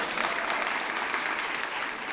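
A convocation audience at Los Rios Community College District applauds in a steady, dense wash of clapping that holds at an even level throughout, with no distinct voices.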